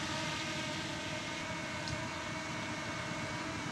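DJI Mini 2 drone coming down to land, with a steady, continuous whine of small propellers humming close by, even in volume throughout.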